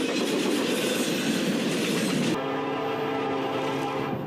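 Freight train hauled by Norfolk Southern power with two Union Pacific locomotives trailing, rolling past as a steady, loud rumble whose tone shifts abruptly partway through, with no voices.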